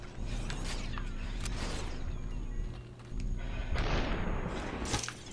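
Gunfire in the video game Superhot, heard as bursts of impact and boom-like noise layered over continuous game sound effects, with no speech.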